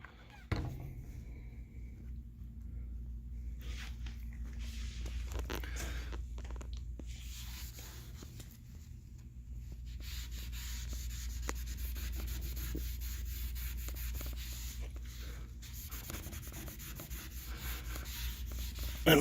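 Rag loaded with Easy Scrub surface deposit remover rubbing black rubber goo off a surface, a steady close scrubbing texture over a low background hum, continuing with slight pauses.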